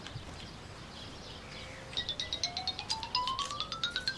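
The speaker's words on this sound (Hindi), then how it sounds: "मुराद सर का फोन है।" A mobile phone ringtone plays a short repeating electronic chirp pattern that rises in pitch, faint over quiet room tone.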